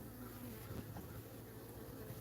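Honeybees swarm around an opened beehive, their dense buzzing drone steady and close throughout, with faint handling noises underneath.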